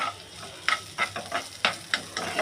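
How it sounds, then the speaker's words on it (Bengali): Chopped onions frying lightly in a little warm oil in a pan, a soft steady sizzle broken by regular scraping stirs about every third of a second. "পেঁয়াজটাকে হালকা করে একটু ভাজবো"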